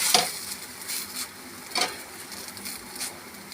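A paratha crisping in a pan, with soft sizzling and scraping rubs, a few sharper scuffs of a spatula against the pan, fairly quiet and without talk.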